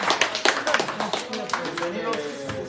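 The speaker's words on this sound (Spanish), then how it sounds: "Que vengan los aplausos allá para el compadre." At a family celebration in Asunción Ocotlán, Oaxaca, guests clap for a close friend, a quick run of sharp, uneven hand claps heard close while people keep talking over them.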